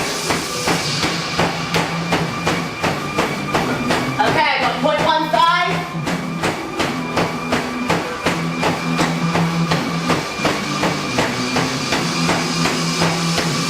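Rapid, even thuds of running feet pound on a treadmill belt alongside a steady motor whine, while a person speaks briefly over the rhythm.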